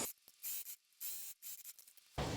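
Fabric for a puffer jacket pocket being cut, with several short bursts of crisp cutting noise separated by brief pauses, close and fairly quiet, no talking.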